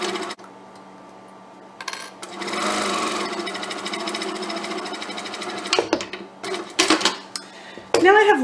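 A home sewing machine runs a long seam along a kitchen towel scarf, its rapid mechanical rattle steady for several seconds before stopping, followed by clicks and handling noises.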